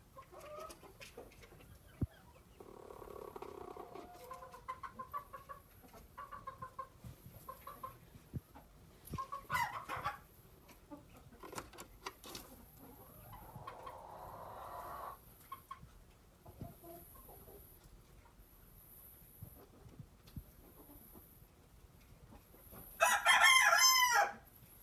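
A hen in a snowy backyard coop clucks and squawks intermittently while laying an egg, with scattered soft calls and a louder burst near the end, no talk.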